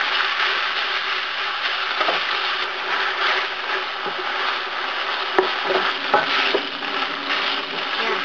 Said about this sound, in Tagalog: kailangan mainit yung ating pan kasi i-brown natin yung ating beef